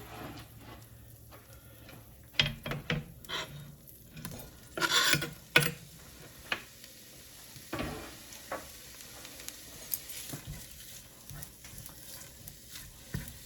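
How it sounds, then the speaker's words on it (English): Bacon sizzles in a pot for a zuppa toscana soup, with scattered spoon scrapes and clinks of stirring, a few louder clatters near the start, and no talking. "And I'm going to add my bacon."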